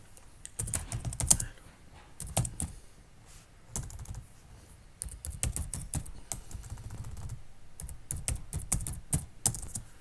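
Bursts of computer keyboard typing while working in the Vim editor on Linux, with clustered rapid keystrokes separated by short pauses, close and moderately loud, and no voices.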